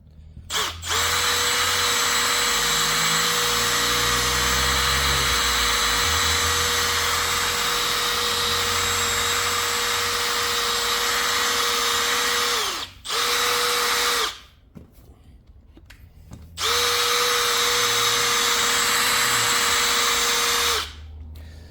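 A cordless drill spins a polishing pad with compound over scratched car paint, a steady loud whine held for long stretches, stopping briefly twice before running again.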